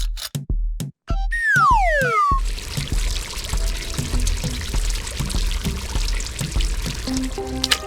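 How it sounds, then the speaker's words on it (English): Fuel leaking from a gas station hose and dripping onto concrete in a cartoon, heard as a loud liquid pour with dripping and splashing after a few sharp hits and a falling whistle-like glide. "the fuel hose leaks. Drops of fuel fall onto the concrete, forming a spreading puddle."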